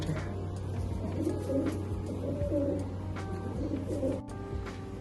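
A prize-winning racing pigeon coos in a repeating low rolling rhythm, with a steady hum running underneath throughout.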